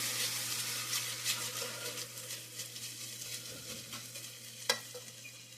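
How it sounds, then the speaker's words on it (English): Sloppy joe meat sizzles steadily in a pan after a splash of balsamic vinegar, a constant soft crackle with occasional stirring scrapes and one brief clink near the end. "next we're going to add a little bit of balsamic vinegar, just a tad"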